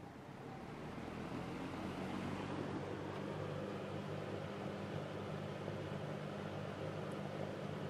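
Kmart S-23 box fan with a shaded-pole motor running on high, a steady low hum and airy whoosh with no changes.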